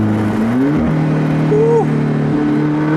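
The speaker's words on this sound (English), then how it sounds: "here's a downshift" A car fitted with a Capristo 4C exhaust downshifts, its engine note droning loud and close, then rising briefly in pitch as the revs jump during the shift.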